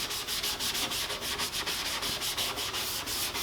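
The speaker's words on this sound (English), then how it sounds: "And just give her just a good scuffing." Abrasive pad scuffs the surface of a Jeep Wrangler YJ Rio Grande part in quick back-and-forth strokes, a close, steady rhythmic rasping with no voices.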